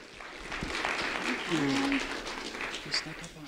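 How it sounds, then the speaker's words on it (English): Crowd applauding a school board member at a community event, a moderate spread of clapping with people talking and calling out over it, swelling in the middle. "A round of applause for our school board member, Melissa Giovanelli."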